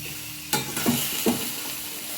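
Chopped green chillies, capsicum and tomato fry in a pan with little oil, a steady close sizzle broken by a few sharp stirring scrapes, with no voices.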